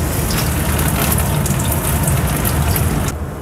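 Water gushes out of soaked bread squeezed hard by hand for bread rolls, a dense, splashing pour that runs steadily and close for a few seconds before cutting off.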